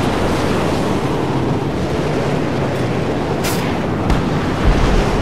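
A constant, heavy rush of stormy wind in the video game Mad Max on PC roars without pause, loud and close.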